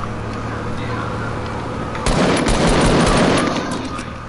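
Gunfire from shooting in a video game erupts halfway through as a loud, dense burst of rapid shots lasting a couple of seconds over steady background game noise.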